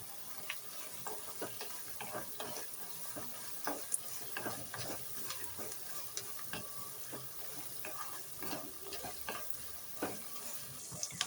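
Chillies fry in a pan as salt is mixed in for uggani mirchi: a soft, continuous sizzle with irregular taps and scrapes from stirring, fairly quiet throughout.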